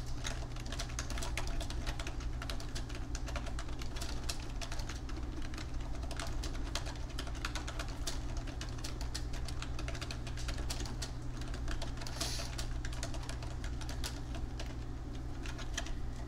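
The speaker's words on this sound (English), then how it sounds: "I'm going to type it in on my screen" Steady, rapid clicking of keys on a computer keyboard, an even run of close, light taps without pause, alone with no talking.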